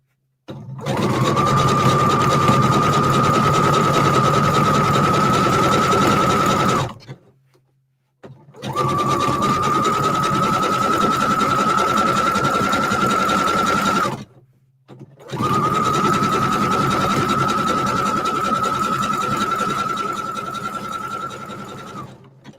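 Sewing machine stitching through rope, running in three long steady whirring bursts of several seconds each, with brief pauses between them, loud and close.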